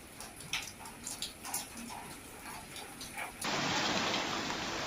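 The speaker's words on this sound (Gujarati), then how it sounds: "સમગ્ર પંથકમાં પવન સાથે વરસાદ વરસ્યો છે।" Unseasonal rain driven by gusty wind at Sarasiya village near Dhari and Savarkundla in Amreli district, Gujarat: patchy spatter and drips, then a sudden steady, loud downpour hiss that fills the last second and a half.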